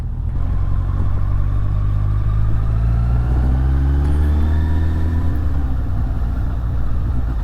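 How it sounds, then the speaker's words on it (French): Suzuki Bandit roadster engine idling at a standstill, a deep, steady, loud rumble close by, with a slight pitch rise and fall midway, and no voices. "on sent l'énorme moteur là qui tremble dans les jambes"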